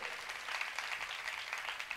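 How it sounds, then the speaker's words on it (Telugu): A church congregation claps steadily and loudly during a sermon, a dense, continuous patter of many hands with no voices above it. "కొట్టండి చప్పట్లు గట్టిగా"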